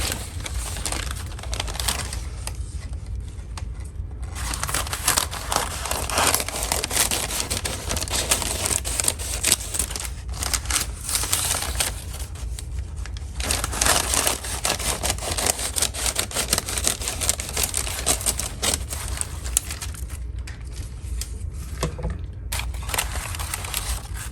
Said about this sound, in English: cut us some paper